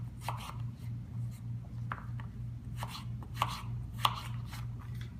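A knife chops vegetables into sticks on a cutting board for vegan mac n cheese, with a rapid even run of close, crisp taps over a low steady hum and no speech.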